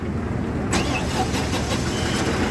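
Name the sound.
John Deere 5405 tractor engine running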